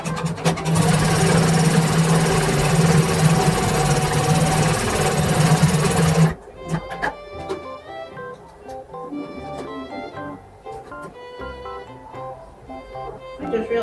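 A sewing machine stitches along a folded waistband while a cosplay outfit is altered. A loud, steady motor hum runs for about six seconds, then stops, leaving quieter clicks and handling sounds.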